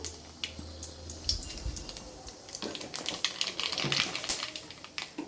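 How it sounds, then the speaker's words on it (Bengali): Black cumin seeds and dried chillies crackle and spit in hot oil as a tempering for dal. The popping starts sparse, then builds into dense, close crackling with no voices. "আজ আমি কিন্তু ডালে দেবো কালো জিরে ফোড়ন আর এখানে একটু শুকনো লঙ্কা নিয়ে নিয়েছি সেটাও দিয়ে দিলাম"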